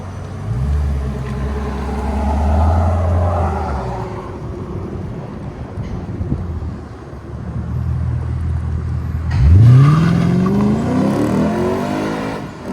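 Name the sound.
2015 Lexus RC F 5.0L V8 exhaust with Borla ProXS mufflers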